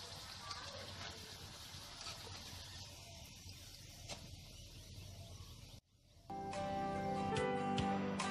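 Pumpkin cake frying in hot oil in a home kitchen, a steady soft sizzle and crackle for most of the stretch, then a brief hush before a louder, brighter burst of frying with clinks.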